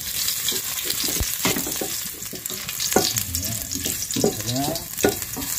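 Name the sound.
sautéing ginger in hot oil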